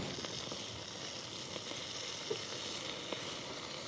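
Black pudding frying in a pan while being cooked alongside venison, a faint, soft sizzle with a few small crackles and taps, quiet and steady.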